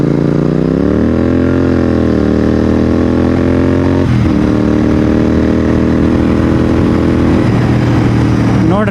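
A Royal Enfield GT 650 motorcycle rides along a road with its parallel-twin engine droning loudly and steadily, the pitch climbing and settling through gear changes, with brief dips and shifts around the middle and near the end.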